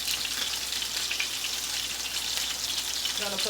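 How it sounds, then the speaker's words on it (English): Steady loud sizzling and crackling of meat frying in a hot pan, continuous throughout with no talking. "while that meat is frying there"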